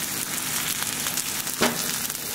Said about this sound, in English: What I'll do is I'll cook you up the scramble right now.